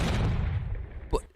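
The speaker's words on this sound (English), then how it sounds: "Explosion." A hand grenade (RGD type) goes off in war footage from Mariupol: a dull, distant thump with a short crack near the end of a noisy, rumbling stretch, heard faintly under broadband background noise.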